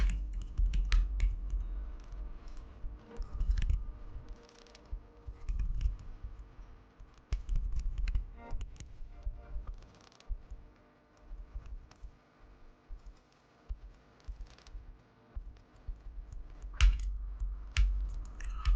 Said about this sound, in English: I'm going to type out all of our text.